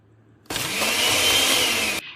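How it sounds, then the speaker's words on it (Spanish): A kitchen blender switches on abruptly and runs at a loud, steady whirring roar for about a second and a half, then cuts off, leaving a faint tail. "ahora seguiremos escuchando el sonido de la licuadora"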